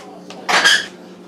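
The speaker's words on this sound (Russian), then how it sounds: "я слила почти всю воду и ставлю эту кастрюльку на маленький огонек, совсем маленький." A saucepan of pasta with a little water left in it is set down on a stove burner, giving one brief metallic clunk and scrape, close and clear.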